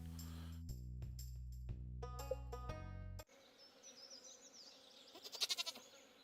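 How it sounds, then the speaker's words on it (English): Goats bleat in Stardew Valley, a short burst of nasal bleats near the end, after a tinkling game melody cuts off and quiet ambience follows. "Oh, we got some goats."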